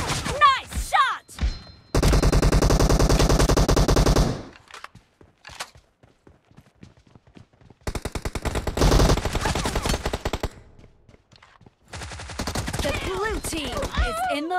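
Gunfire in a PUBG team deathmatch, with long bursts of loud automatic fire alternating with single shots and gaps, mixed with game announcer voice lines and other in-game sounds.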